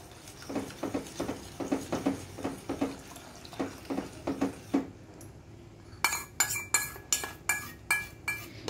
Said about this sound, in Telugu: దీంట్లో ఇప్పుడైతే మనం కొంచెం కొంచెంగా మిల్క్లో యాడ్ చేసుకుంటూ ఇలా తిప్పుతూ ఉండాలి